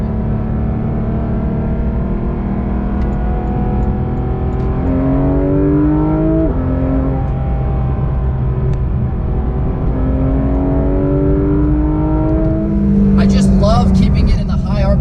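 A 2019 Porsche GT3 RS engine revs and climbs through gears during spirited driving, loud and close from inside the cabin, with rising and falling pitch sweeps and a sharper burst near the end; a voice talks over it.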